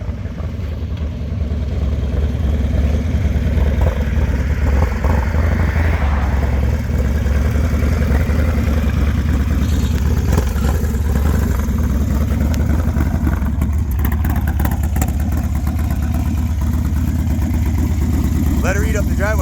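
A 2005 Harley-Davidson FXDL motorcycle engine rumbles loudly and steadily at close range for the whole stretch, a deep continuous throb with slight swells, while people talk over it.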